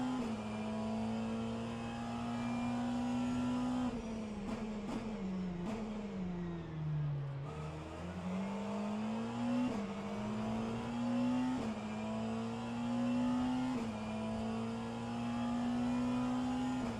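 McLaren race car engine in a racing video game at Spa's Eau Rouge, a continuous high-pitched whine that rises through gear shifts, dips briefly around a corner, then climbs again, with no speech over it.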